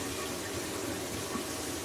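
Water pours steadily from a newly installed kitchen faucet into a sink, a dense continuous rushing hiss that stays close and even throughout, with no voices.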